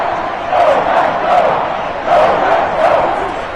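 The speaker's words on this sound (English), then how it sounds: "this crowd's going to get even louder" Stadium crowd in a football video game roaring and chanting, swelling in repeated waves of massed voices, loud and continuous with no commentary over it.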